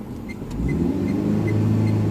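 Car pulling away slowly in first gear during a driving lesson on a road in Ankara, the engine hum rising and holding steady as it accelerates, close and fairly loud with no talk during the clip.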